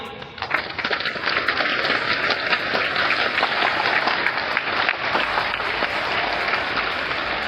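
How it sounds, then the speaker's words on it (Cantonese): A crowd claps loudly and steadily at the opening ceremony of a Macau secondary school's 55th athletics meet, dense sustained applause filling the whole stretch without any speech. "全場掌聲雷動"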